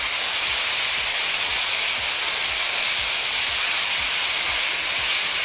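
Beef for kebab hala fatta sears and sizzles in a pot, a loud, constant broad hiss that stays steady and close throughout, with no voices.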